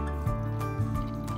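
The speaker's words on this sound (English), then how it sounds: "pour that into your canister" Cold whipping cream pours into a whipped cream canister, making soft, close liquid glugs and drips with a faint splashy trickle.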